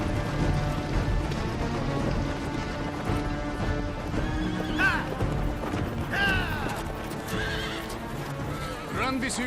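Horses neigh and whinny with clear rising calls over steady clip-clop of many hooves treading, loud and close, as Tartar riders gather near a besieged city, with voices and battle bustle underneath.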